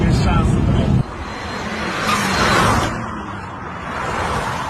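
Chevrolet Gentra and Nexia cars racing from a standing start, a loud close engine roar and rushing whoosh that drops suddenly then swells again, with people talking over it.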